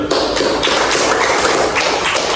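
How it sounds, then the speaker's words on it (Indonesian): Students in a school classroom applaud, giving loud, close, continuous clapping that stays steady for a couple of seconds. "Beri aplaus dulu"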